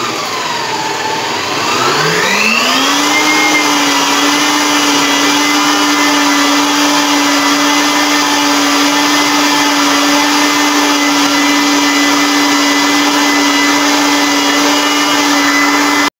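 An electric mixer beats butter and sugar for a homemade English loaf cake, starting at low speed and ramping up into a steady, loud, continuous motor whine that holds alone for the rest of the stretch.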